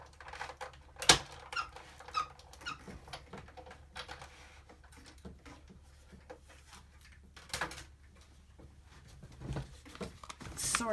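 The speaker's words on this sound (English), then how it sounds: "Sorry about the cracking, but that's because the die went in straight into the machine." A die cutting machine crunches and cracks through cardstock for a pop-up shadow box card, giving scattered sharp snaps and creaks over a low mechanical rumble, loudest near the start and toward the end.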